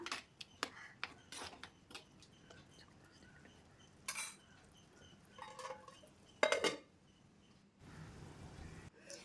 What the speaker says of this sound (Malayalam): എല്ലാം കൂടി നമുക്ക് നന്നായിട്ടൊന്ന് മിക്സ് ചെയ്ത് കൊടുക്കാം.